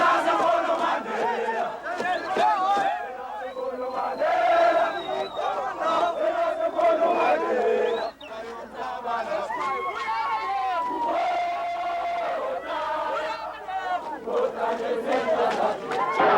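Tens of thousands of African National Congress supporters welcome Nelson Mandela on his release, a huge crowd chanting, singing and shouting in rising and falling waves, loud and continuous with a brief dip midway.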